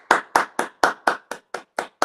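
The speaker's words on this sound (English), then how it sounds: "I don't know why, but every once in a while I feel like clapping for somebody" Hands clapping in a steady rhythm, nine sharp, close claps spaced evenly about a quarter second apart, with no voices.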